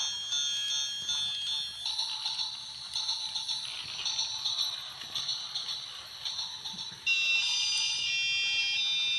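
On a model automatic rail crossing, an Arduino-driven buzzer alarm rings in a steady, shrill electronic tone, fairly quiet, with a brief shift in pitch and a louder final stretch.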